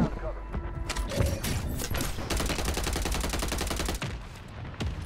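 Call of Duty Warzone match with dense gunfire, a rapid burst of automatic shots rattling steadily through the middle, with scattered heavier single cracks around it and voices talking over the top.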